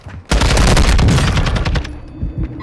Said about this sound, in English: Mortar strike incoming.